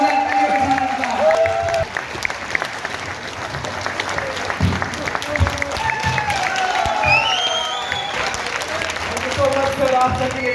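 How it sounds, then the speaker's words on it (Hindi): Audience applause at an Imperial Master success event, a steady wash of clapping lasting throughout, with voices and whoops mixed in. "तो बस फिर आप सभी एक जोरदार क्लैपिंग कर सकते हैं।"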